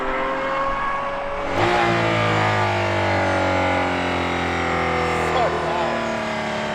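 AMG hypercar with a Formula One engine driving past, its engine note building with a sharp rise in revs as it nears and staying loud and close, with a brief second flare near the end.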